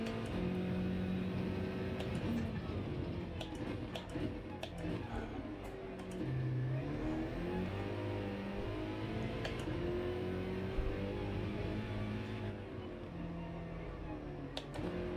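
A race car engine in a Gran Turismo race is held hard in third gear on worn tyres, its steady loud drone shifting pitch up and down and running continuously with no talk.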